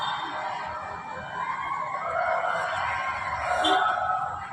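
A fire truck siren wails in the distance amid steady background noise, its tone rising and falling faintly over a few seconds.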